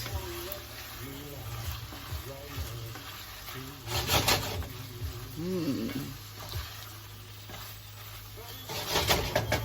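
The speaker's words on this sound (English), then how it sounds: "Stir that a bit." Beef and string beans stirred in a hot pan with Maggi seasoning: a steady sizzle with scraping stir strokes and louder bursts, while a faint voice is heard underneath.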